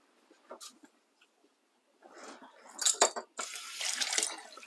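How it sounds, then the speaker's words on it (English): Running tap water splashes over hands at a sink, starting as scattered faint drips and swelling into a steady, fairly close stream of water in the second half. "So, wash hands."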